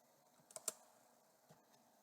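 A few keystrokes typed on a computer keyboard while entering a command in MATLAB to open Simulink: a short cluster of two or three close clicks, then one more tap a second later, faint and alone.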